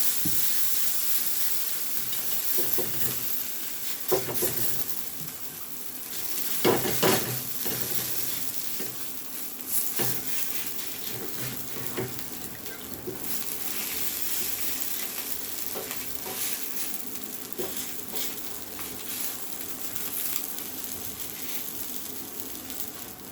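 Ragi uttapam batter spread thick on a hot griddle sizzles in a steady close hiss, with occasional louder bursts and soft ladle taps as it cooks.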